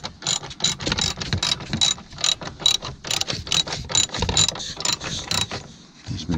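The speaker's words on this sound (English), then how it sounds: "Ratchet switched directions on me again." A ratchet wrench clicks rapidly and repeatedly in close, sharp bursts while loosening seat belt bolts inside a Dodge Challenger, a steady run of crisp metallic ticks lasting several seconds.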